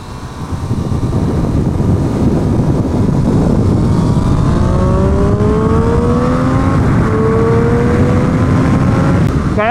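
A Triumph Street Triple R motorcycle with Brembo brakes rides hard on a race track. Its loud, close engine note climbs through repeated rising revs and gear changes, with steady wind roar and no talk.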